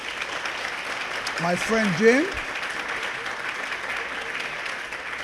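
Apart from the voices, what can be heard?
audience applause at a gala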